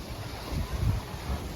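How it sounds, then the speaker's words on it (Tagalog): Strong, gusty wind blows outdoors where laundry hangs drying, buffeting the microphone with a steady low rumble that surges and eases without letup. "Lakas kasi ng hangin."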